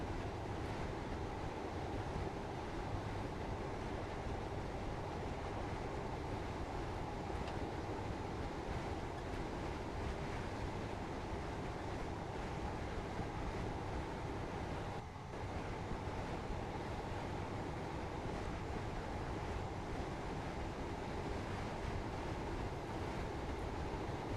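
A video game train in Train Sim World 3 rumbles along steadily, with a continuous rolling roar and faint rhythmic clatter of the wheels, unbroken throughout.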